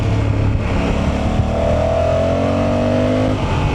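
A Honda 1100 motorcycle engine on its stock exhaust pulls hard, pitch climbing steadily through the revs, loud and close with a gritty roar and no talking.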